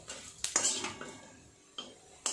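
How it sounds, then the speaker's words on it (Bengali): Metal utensils clink and scrape against a frying pan as fried lentil vadas are lifted out of hot oil in a home kitchen, with a few sharp knocks separated by quieter scraping, fairly faint. "বড়াগুলো আমার ভাজা হয়ে গেছে, এবার নামিয়ে নেব।"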